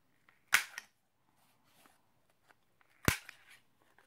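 Paper being cut and its edges rounded while making a Halloween book box, heard as two sharp, close snips about two and a half seconds apart, each followed by a short rustle, in an otherwise quiet room.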